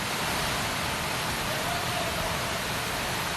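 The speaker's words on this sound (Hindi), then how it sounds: "मंदिर परिसर की सीढ़ियों से पानी बहता नजर आ रहा है।" Heavy monsoon rain pours at Jatashankar Dham temple in Chhatarpur, with water flowing down the temple steps, making a dense, loud, unbroken roar of rushing water and rainfall.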